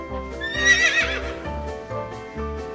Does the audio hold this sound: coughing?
no